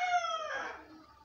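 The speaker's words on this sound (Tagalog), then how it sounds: "in-interrupt na naman ako ng manok." A rooster crows once nearby, a single brief, fairly faint cock-a-doodle-doo that trails off, alone without talk.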